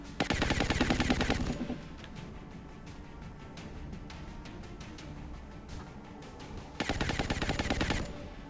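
Automatic-weapon suppression fire in the strategy game XCOM Long War sounds as two sustained rapid bursts, one at the start and one near the end, with quieter rattling game ambience between them.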